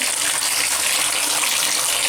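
Water gushing steadily from a freshly unclogged shower faucet, a dense, even hiss of running spray that stays loud and unbroken from start to finish.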